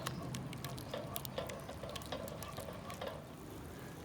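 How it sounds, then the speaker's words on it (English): A whisk stirs tomato paste into a cooking mixture for a crawfish leftovers dish made outdoors in a backyard, giving a continuous close wet scraping and sloshing with small clicks of the whisk against the pot. "just whisk it all around and incorporate the whole mixture"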